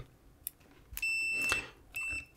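A multimeter's continuity beeper testing a shoddy French-German Schuko mains plug adapter: two short, thin high-pitched beeps, close and fairly quiet, separated by faint clicks of the probes.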